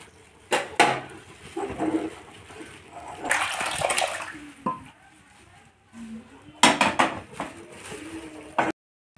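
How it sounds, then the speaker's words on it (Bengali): Lentils being stirred in a pot after hot water is poured in, with watery sloshing and metal scrapes and clinks in irregular bursts, close by, with short quiet gaps between. "গরম জল দিয়ে একটু নাড়াচাড়া করে নিচ্ছি"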